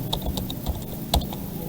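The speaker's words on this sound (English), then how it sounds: "continue typing and then you press enter" Rapid, light keystrokes on a computer keyboard while working in MS Word 2019, a quick irregular patter of close clicks with one sharper tap partway through, no voices.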